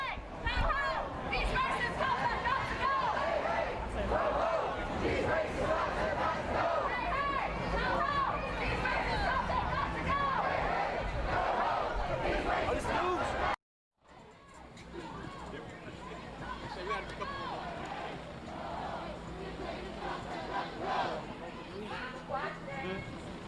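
A street protest crowd sends up steady, distant babble and shouting throughout, with footsteps and occasional clopping hooves mixed in; a brief silent gap breaks it midway before the hubbub resumes.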